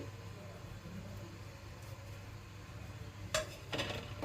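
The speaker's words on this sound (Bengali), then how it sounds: "এবার খুন্তি করে এবার ভালোভাবে লাউ চিংড়ির টকে জিরে গুঁড়োটা মিশিয়ে দিচ্ছি" A spatula stirs cumin powder into a sour bottle gourd and prawn curry in a pot, giving a low steady scraping bed with a few sharp metallic clinks near the end, fairly quiet and without talk.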